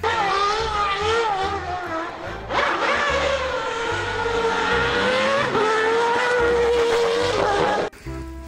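A toy F1 race car gives a loud, continuous revving engine whine that rises and shifts in pitch, like a racing sound effect, before cutting off abruptly near the end.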